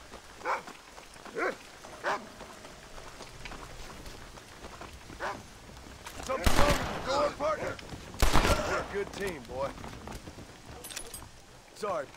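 Dog in the Red Dead Redemption game barking several times at intervals, with bursts of gunfire and someone talking over the scene.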